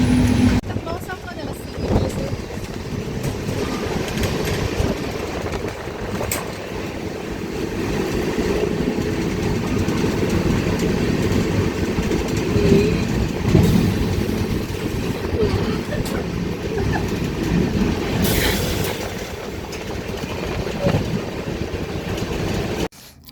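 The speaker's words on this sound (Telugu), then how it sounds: "సో ఇంకెళ్ళి మనం ట్రైన్ ఎక్కేద్దాము" A steady, loud rumble of a train rolling along the tracks, heard near the open door, with rattling and rushing air that continues without a break.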